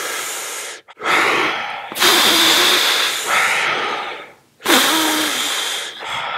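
Deep, heavy breaths in and out, loud and close, several long hissing inhales and exhales with brief pauses between them and no talking.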